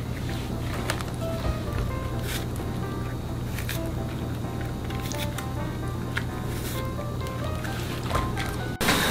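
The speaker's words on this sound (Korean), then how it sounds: "이렇게 통통한 거 갈라서 잡티를 제거하고 찬물에 깨끗하게 씻어 주세요." Oyster mushrooms being washed in cold water, a steady close wash of splashing, squishing and sloshing that runs throughout with a few sharper handling noises and no voices.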